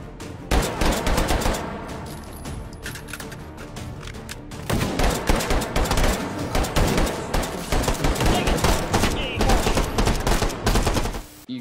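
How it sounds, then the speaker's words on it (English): Dual-wielded pistols fire in the VR shooter Hot Dogs, Horseshoes and Hand Grenades: loud rapid shots stacked into dense volleys, a brief lull, then more sustained firing to the end, with faint talk underneath. "Can't argue with a bit of dual wield pistols."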